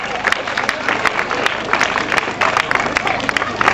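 An audience claps at a school annual function prize-giving. Steady applause crackles over a constant crowd murmur, with a voice speaking over the clapping.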